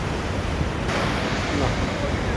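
Sea waves at Da Nang beach in Vietnam, a loud continuous wash of surf and wind noise that stays steady throughout, with no clear talk over it.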